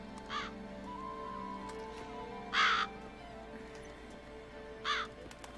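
Crows cawing in The Witcher 3, three separate harsh caws spaced a couple of seconds apart over a quiet ambient hum, moderately distant.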